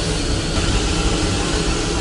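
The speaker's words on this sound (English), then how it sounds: "So I'm getting a great experience in riding on a steam train." Steady, dense rumble of a 100-year-old steam train in motion, a continuous low roar with broadband clatter and hiss, heard from on board with no talking.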